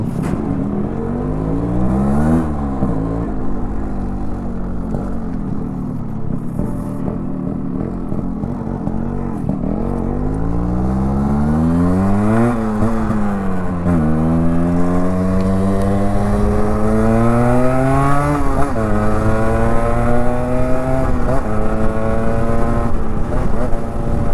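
A Yamaha RXZ five-speed motorcycle engine drones steadily while riding, its pitch climbing and dropping repeatedly through gear changes as the throttle opens, close and loud throughout.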